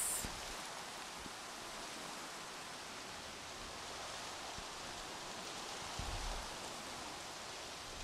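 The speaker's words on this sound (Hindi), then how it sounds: "भाई पानी गिर रहा है, भाई पानी गिर रहा है, पानी, बारिश हो रही है।" Steady rain falls in the dinosaur park game Jurassic World Evolution, a dense, even hiss across eight seconds with a few soft spatters, continuous and fairly close, with no voices over it.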